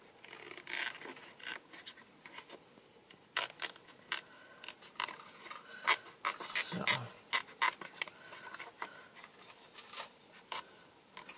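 Paper being cut with a pair of scissors poorly suited to the job while making a journal, giving repeated short snipping and crisp rustling strokes in an irregular rhythm, close and fairly quiet, with no talk.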